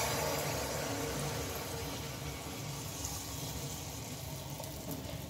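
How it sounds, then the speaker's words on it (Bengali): Carrot malpua frying in hot oil: a steady, dense sizzle and bubbling hiss holds throughout, close and even, with no talking over it. "এইভাবে প্রত্যেকগুলো আমি ভেজে নেব একে একে"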